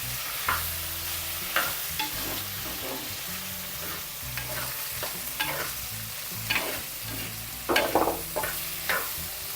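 Okra and drumstick pieces fry in a pan for a prawn theeyal, with a steady sizzle broken by repeated scraping stirs and clinks of a spoon against the pan, close up and without talk.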